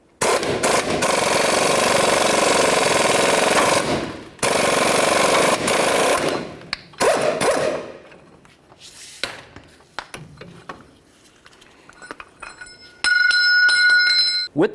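A lower ball joint on a 1998-2011 Ford Ranger is pressed out with a press cup and adapter: loud sustained hammering bursts from an air tool, then sharp metallic clinks and knocks as the joint comes free.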